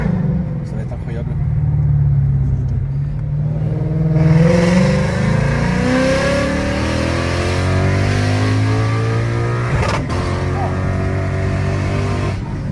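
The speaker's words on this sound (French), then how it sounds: "Je vais quand même baisser un peu la vitre pour entendre ça au moment de l'accélération." A Lexus car accelerating hard with the window lowered, engine note climbing steadily in pitch through rising revs toward the rev limiter, loud and close from inside the cabin, with a brief break near the end as it hits the limiter or shifts.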